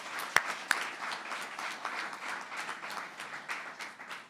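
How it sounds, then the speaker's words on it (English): A press conference audience at an award event gives steady applause for a team. Two sharp, close claps stand out at the start, then a moderate, even patter of many hands continues with no talking. "I really want to give a rousing round of applause for my OCD team"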